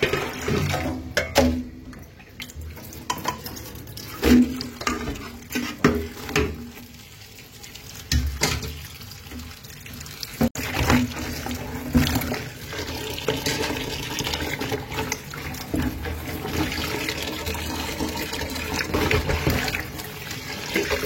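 Food being rinsed under a running kitchen tap, with water gushing and splashing in uneven bursts as it is handled, loud and close, with no speech.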